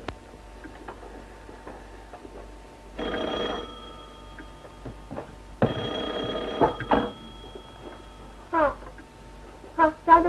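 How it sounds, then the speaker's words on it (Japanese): An old telephone bell in a 1937 Japanese film scene rings twice in sustained electric rings with a pause between, over a crackly, hissing soundtrack with faint clicks afterward. "ひろこさん、 お電話。"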